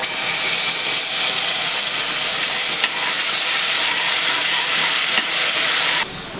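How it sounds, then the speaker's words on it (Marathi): Ajwain, asafoetida, sesame seeds and a green paste crackle and hiss loudly in hot oil while being tempered for a Maharashtrian mixed-vegetable bhaji. The steady, dense sizzle is close-up and unbroken, then drops slightly near the end. "आपण ओवा, हिंग आणि तीळ घालूया, त्यानंतर त्यात आपण आपलं हे हिरवं वाटण घालूया."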